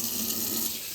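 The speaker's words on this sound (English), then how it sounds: "you're just going to rinse them off with water" Steady stream of tap water running over venison steaks in a sink, a constant close hiss and splash with no pauses.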